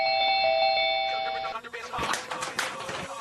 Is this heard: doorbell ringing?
yes